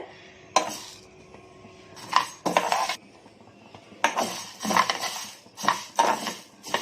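Urad dal being dry roasted in a pan without oil, heard as repeated bursts of rattling and scraping as the lentils are stirred, with quieter pauses between, no talking.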